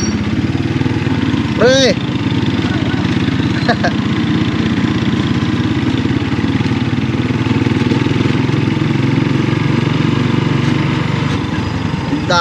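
A loaded motorcycle engine drones steadily under heavy strain while carrying a large cargo, running continuously throughout, with people speaking over it.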